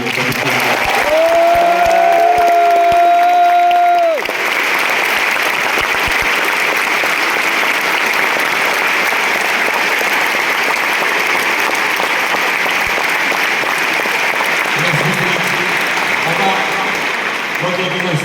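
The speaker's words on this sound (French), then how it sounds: "Donc j'aimerais qu'on applaudisse encore une fois Gilles pour" A tennis crowd at Bercy in Paris applauds in a sustained, loud, even wash of clapping that fills the large arena. An amplified voice talks over it during the first few seconds and briefly again near the end.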